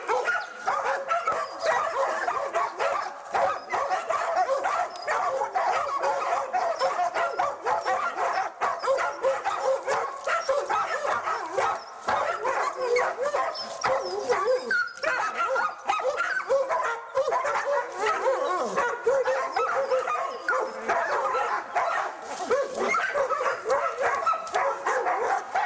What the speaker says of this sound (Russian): Собаки просто звереют, как им охота его